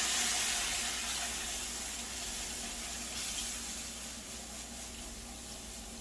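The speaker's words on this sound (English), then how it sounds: "we're going to add our milk a little bit at a time. And we're going to stir those lumps out." Milk is added a little at a time to a hot pan and stirred, producing a steady, close hiss and wash of liquid that fades slightly over the stretch, without any talking.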